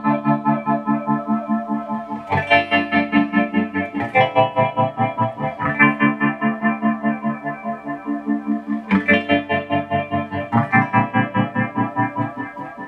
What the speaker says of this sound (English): Let's add the phaser, and this should pretty much sound like the introduction